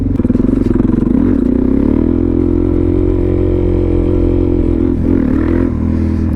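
A Suzuki DRZ supermoto's single-cylinder engine revs hard and steady while doing a wheelie, loud and close, with a brief dip and rise in pitch near the end.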